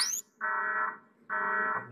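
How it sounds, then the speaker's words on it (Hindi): An alarm sounds during the Project IGI video game as two long, steady electronic tones, each about half a second long, separated by short gaps, loud and clear with no voices over it. "अलार्म बच गया यार"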